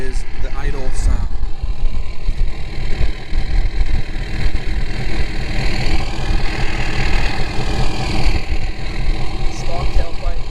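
A Ford 6.7 Powerstroke diesel pickup idles outdoors on a cold day, fitted with a stock tailpipe feeding a Flow Pro race pipe over the axle. It gives a loud, steady, close rumble with a constant gritty texture for the whole stretch.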